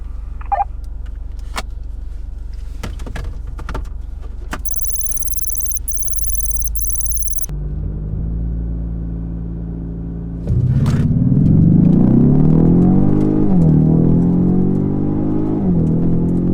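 An Infiniti Q60 3.0T and a Ford Mustang 2.3 HPP sit through a quiet idle with a few clicks and a beeping tone, then the engines surge into a loud rising roar with brief dips at the gear shifts.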